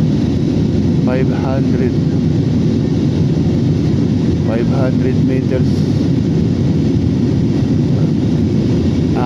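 Steady, loud engine roar fills the cabin of an airliner cruising at altitude on Philippine Airlines flight PR2132, with the wing in view. Someone talks over the constant drone throughout.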